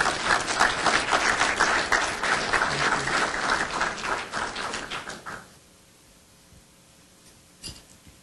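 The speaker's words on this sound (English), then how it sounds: "Another round of applause for our speaker." Audience applause for a speaker fills the room at an awards luncheon for several seconds, then fades out into near quiet with a single faint knock near the end.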